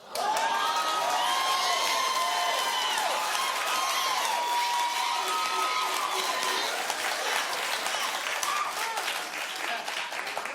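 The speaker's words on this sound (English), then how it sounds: "Only the black people clapped." A studio audience at a daytime talk show claps loudly and continuously, with scattered cheers and whoops throughout.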